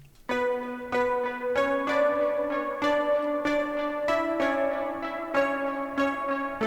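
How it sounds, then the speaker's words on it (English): A nu metal verse melody played on piano layered with a synth preset: steady, evenly spaced sustained notes ringing clearly and alone at moderate volume, with no talking. "that's just a combination of piano and some random synth preset that I liked"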